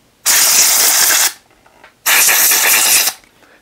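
A can of compressed air sprays onto the fan and coil of an HR ventilation unit in two loud, close hissing bursts of about a second each, separated by a brief pause.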